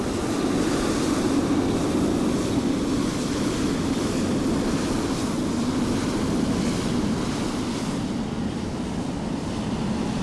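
Air France airliner at London Heathrow in Microsoft Flight Simulator 2020, a steady loud jet roar with a broad rushing hiss holding unchanged throughout, no voices.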